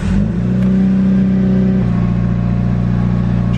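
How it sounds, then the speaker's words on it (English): Mitsubishi Evo 9 with a turbo, its engine running loud and close at a steady droning idle, settling slightly lower partway through. "We are gonna start up the car now."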